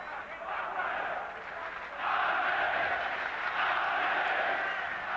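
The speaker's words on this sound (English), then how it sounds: "The crowd trying to urge on Andrew Golota." Some 6,000 boxing fans at Hala Ludowa in Wrocław, Poland, roar to urge on Andrew Golota against Tim Witherspoon. The steady crowd din swells louder midway, with a commentator talking over it.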